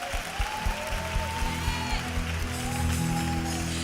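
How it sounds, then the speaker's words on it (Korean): A church congregation applauds during a worship service, a steady, dense patter of clapping lasting throughout, with sustained musical tones sounding beneath it. "박수 올려드리겠습니다."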